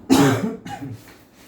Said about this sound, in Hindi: खांसी मुझे ऐसे ही है, कोरोना की नहीं है